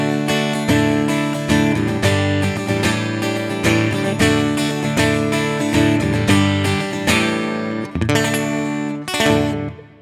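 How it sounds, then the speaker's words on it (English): Clean electric guitar run through a Line 6 Helix on a split path blending an acoustic simulation with a clean amp, playing a steady chordal melody, full and bright, alone for about ten seconds. "I just did a split path with the acoustic sim and the clean amp, and it just sounds like this."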